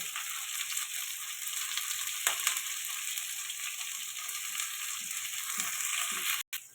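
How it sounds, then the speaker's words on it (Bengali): Steady, moderately loud sizzle of potatoes frying in oil, with occasional soft clinks of stirring and a brief cutoff near the end. "ওই তেলে আলুটা ভেজে নেব, একটু হলুদ আর একটু লবণ দিয়ে।"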